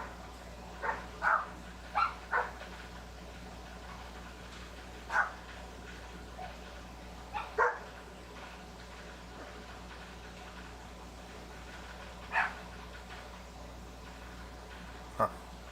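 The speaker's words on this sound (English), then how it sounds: "he's not just barking to bark" Dog barking in the survival game Out Of Ore: a handful of short, sharp barks spaced irregularly across the stretch, moderately distant and fairly faint over a steady low hum of game ambience.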